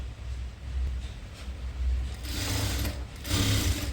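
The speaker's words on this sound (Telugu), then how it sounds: "ఫుల్ రౌండ్ ఇలా కచ్చా స్టిచ్ 3 mm లైట్గా ఫోల్డ్ చేసి స్టిచ్ చేసుకోండి" Sewing machine running a tacking stitch along a lightly folded 3 mm hem on a full frill long dress, a continuous close whirring that grows louder in two surges toward the end.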